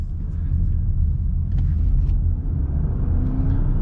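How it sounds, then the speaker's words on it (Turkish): A Volvo XC40 R-Design T5 plug-in hybrid engine rumbles steadily up close after starting, a low continuous drone with faint whirring, no speech. "Bakın şimdi motor açtı."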